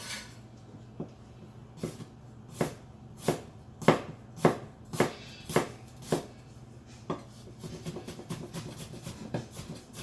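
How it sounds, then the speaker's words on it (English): Knife chopping smashed garlic and ginger on a cutting board at home, a series of sharp, distinct close knocks at an uneven pace, followed by a quicker run of lighter taps, with no talking. "Just gonna smash it. Give them a quick chop."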